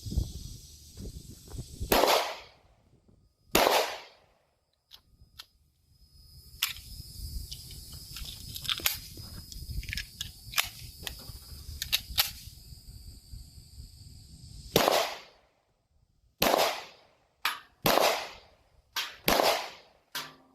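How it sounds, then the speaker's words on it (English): A 1938 S42 Luger, a World War II German military pistol, fires at an outdoor range. Two sharp cracks come early, then a quieter stretch of handling noise, then a quick string of several more shots near the end. "we're out here at the range with the 1938 S42 Luger, the World War II military model, and we're going to put some rounds downrange"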